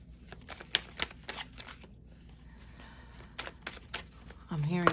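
Playing cards pulled from a pack and shuffled, giving a string of quick riffling snaps and crisp clicks close by, with a few scattered louder flicks, and a voice speaks briefly near the end.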